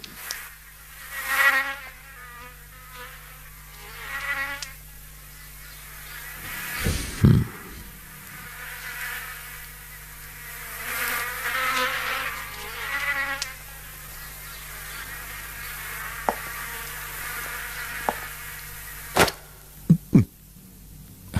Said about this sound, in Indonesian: Nyamuk, Pak.